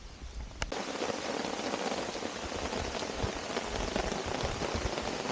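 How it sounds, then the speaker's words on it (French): Steady heavy rain drums on a tarp strung over a hammock during a night of bushcraft camping in Japan: a dense, continuous patter close overhead, with one sharper drop hitting early and no speech. "Là, ça commence à pleuvoir sérieusement, mais c'est pas grave. Je suis sous mon tarp."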